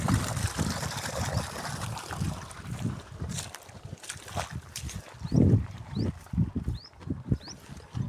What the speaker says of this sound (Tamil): மோட்டார் பார்த்தீங்கன்னா 750 அடி பம்ப் பண்ணிக்கிட்டு இருக்கு